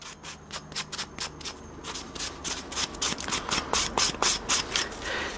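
Hand sanding a burnt microwave part with sandpaper, repeated rhythmic rasping strokes, close and fairly loud, with no talk.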